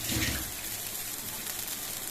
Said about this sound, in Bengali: এর মধ্যে আমি ঝোল দেব